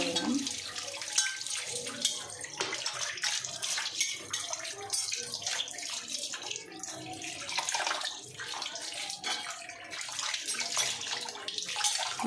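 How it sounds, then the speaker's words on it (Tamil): Pooja vessels are rinsed under running water from a tap, a steady close splash and rush with small clinks and shifts as the metal is handled. "நான் கழுவுறேன்."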